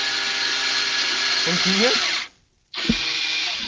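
A power drill bores a hole with a loud, continuous high whine, briefly stops, then starts up again, while someone speaks under the noise.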